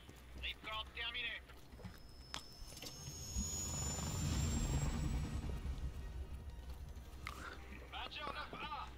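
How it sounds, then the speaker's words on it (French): Helicopter flight in the Call of Duty Black Ops Cold War mission Fracture Jaw, a steady low rotor and engine roar swelling to a loud peak mid-clip with a rising whine, while voices talk over it at the start and end. "pas mal le petit passage en hélico"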